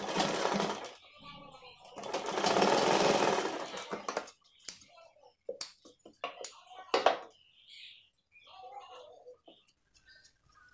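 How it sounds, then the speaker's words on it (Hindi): Sewing machine stitching fabric for a pillow cover tassel: a close, whirring run of stitches, then a brief second burst, followed by intermittent clicks and handling noises. "यहाँ पे से मोड़ के सिलाई लगा लेना है।"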